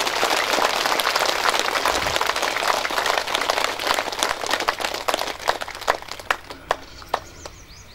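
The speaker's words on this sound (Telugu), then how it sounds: "మరొక్కసారి ఆ మైత్రేయ బుద్ధునికి గట్టిగా క్లాప్స్ కొడుతున్నాను." An audience claps for Maitreya Buddha, dense sustained applause from many hands that gradually thins into scattered individual claps toward the end.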